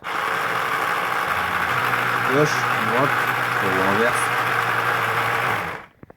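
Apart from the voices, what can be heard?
RC boat engine running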